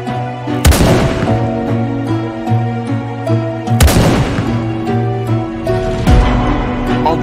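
A cannon fires at Skibidi toilets in the Indian Bike Driving 3D video game, three loud booming blasts spaced a few seconds apart, each trailing into a rumbling decay over steady game sounds.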